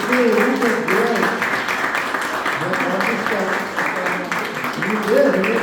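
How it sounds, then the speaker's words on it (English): An audience at a Holbrook Woodstock event gives a round of applause, a dense, steady wash of clapping that runs throughout while a voice keeps talking over it. "A big round of applause for Steve."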